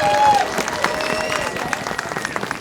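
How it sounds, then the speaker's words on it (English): A crowd gives a big round of applause, continuous clapping with some crowd noise and a brief whistle-like tone at the start, fairly loud throughout. "Ladies and gentlemen, could we give a big round of applause to these gentlemen right here?"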